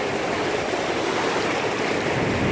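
Surf rolling in at Surfers Paradise beach on an early summer morning, a steady broadband wash of breaking waves close by, continuous and fairly loud with no voices.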